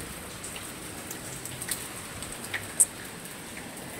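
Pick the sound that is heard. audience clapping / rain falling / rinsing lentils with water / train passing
rain falling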